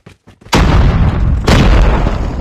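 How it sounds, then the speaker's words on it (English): A grenade explodes in the Call of Duty Mobile multiplayer game: two loud, deep booms about a second apart, each bursting in suddenly and rolling on into a heavy rumble. "Grenade!"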